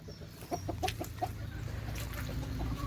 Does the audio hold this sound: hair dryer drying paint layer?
no